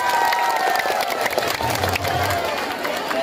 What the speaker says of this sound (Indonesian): Ya, tepuk tangan buat Mas Kaisang.